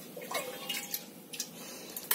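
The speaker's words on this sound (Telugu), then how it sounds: "2 డబ్బాలు వాటర్ మనం పోయాలి" Water pours and splashes into a bowl of sago pearls in a kitchen, short uneven trickles and drips, close and fairly quiet, with no talking.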